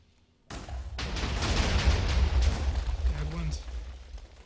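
An explosion in the video game Nova Arcana, a sudden loud booming blast followed by a rumbling, crackling roar lasting a few seconds, with a voice speaking over the tail end.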